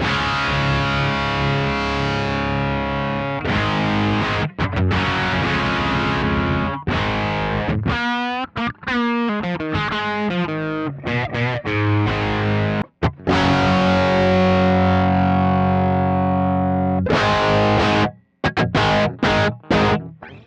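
An electric guitar plays through the vintage channel of a ZUTA LA25 MKII rack-mount amp head, giving heavily distorted chords and riffs with bends and short pauses, loud and alone.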